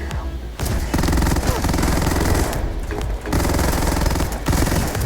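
The Buzzcut weapon fires in Starfield in long, loud, continuous rapid-fire bursts, with short gaps between them and a dense, grinding automatic rattle that sounds close.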